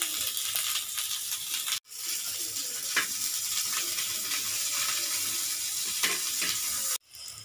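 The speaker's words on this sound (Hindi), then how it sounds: "कुछ इस तरह से मैं इसको फ्राई कर दूंगी" Bitter gourd (karela) frying in a pan gives a steady, close broadband sizzle that runs almost unbroken, with two brief drops into near silence; no voices are heard.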